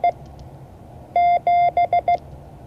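Morse code for the digit seven, sent as two long beeps followed by three short ones at a single steady pitch, clean and close, with a brief stray tone just before.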